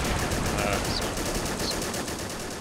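Rapid .30 cal machine gun fire in the World War II strategy game Men of War, a continuous fast rattle of evenly spaced shots heard close and loud, with other battle noise mixed underneath.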